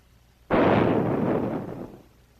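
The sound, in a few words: 30-gallon copper tank water heater exploding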